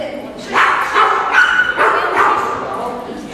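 A dog gives a few short yips and whimpering barks close by during a training session, with bursts of vocal sound over a quiet background.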